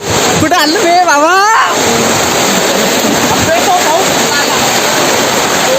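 Heavy rain pours down in a steady, loud broadband hiss that fills the whole clip, with a voice briefly heard near the start.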